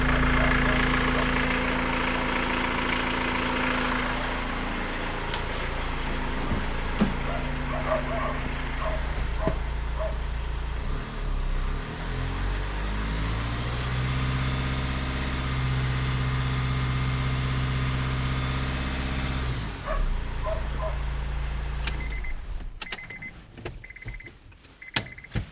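A car engine idles with a steady low hum and harmonic drone, close and continuous, with a shift in pitch partway through before clicks and handling noises near the end.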